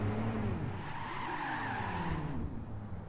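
A 2009 Nissan GT-R V-Spec laps Tsukuba circuit, its engine rising and falling in pitch under a continuous wash of tire scrub and road roar, loud and close throughout.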